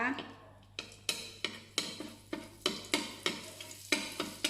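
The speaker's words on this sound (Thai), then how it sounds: "ผัดให้เนยละลายนะคะ" Butter is stir-fried in a pan as the first step of Arabic rice. A spatula scrapes in regular, evenly spaced strokes, roughly two per second, over a faint sizzle.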